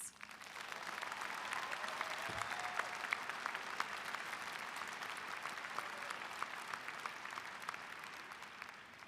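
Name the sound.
convocation audience applauding graduating students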